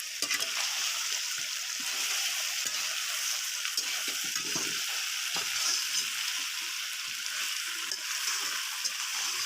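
Duck meat frying with pumpkin and potato pieces in a pan, giving a continuous bright sizzle with occasional stirring scrapes and soft splatters, steady and close throughout.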